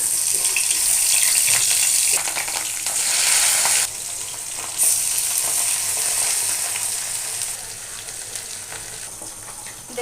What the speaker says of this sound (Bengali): তেল গরম হয়ে গেছে, মাছটা দিয়ে দিচ্ছি।